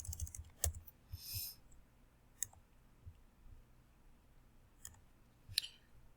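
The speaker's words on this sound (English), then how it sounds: "and then you can start typing." Faint, sparse clicks of keys on a computer keyboard, a few isolated taps scattered across a quiet room rather than a steady run of typing.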